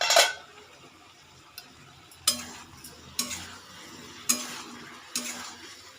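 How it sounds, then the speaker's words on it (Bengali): Vegetables are stirred in a pan, a faint low sizzle broken by several sharp spoon-on-metal clacks and scrapes at irregular intervals, close and distinct. "এটা একবার খুলে নাড়িয়ে দেব।"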